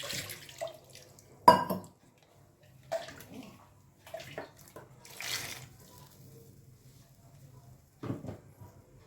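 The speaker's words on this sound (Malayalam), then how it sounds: "മിക്സി കഴുകിയിട്ട് ഒരു ലേശം വെള്ളം ഒഴിക്കാം" Water splashes and sloshes into a mixer-grinder jar being rinsed of ground masala, in a few short bursts with quiet gaps, close up and moderately loud.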